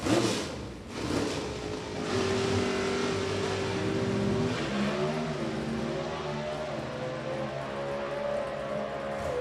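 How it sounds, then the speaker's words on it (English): Drag race cars at an NHRA event at Thunder Valley Motorsports Park roar down the track, a loud sustained engine drone with rising pitch sweeps as the cars accelerate, steady throughout. "Race cars hustling down track."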